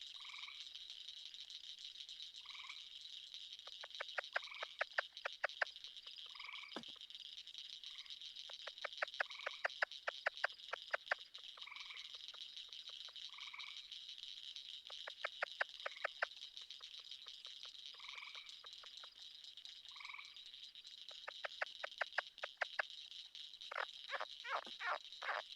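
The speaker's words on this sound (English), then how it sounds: "So what you were hearing that sounds like a bird is an eastern gray tree frog." Eastern gray tree frogs give repeated short, bird-like trilled calls over a steady high insect-like chorus of other frogs at night, with bursts recurring every few seconds at moderate distance.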